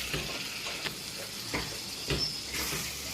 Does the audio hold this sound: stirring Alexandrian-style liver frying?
yes